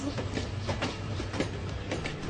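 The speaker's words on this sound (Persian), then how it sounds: "اوید ایستگاه قطار انقره." A train at Ankara railway station rolls past with a steady rumble and rhythmic clickety-clack from its wheels, fairly loud with no talk.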